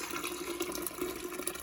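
Hot tea is poured from a container over sugar in a pot, making a soft, continuous trickling and splashing stream of liquid that stays fairly quiet throughout, with no speech.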